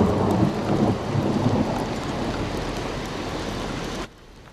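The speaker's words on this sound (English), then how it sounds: "we had thundersnow last night" A deep rumble of thunder during a snowstorm rolls on for several seconds over steady hiss, fading before cutting off abruptly.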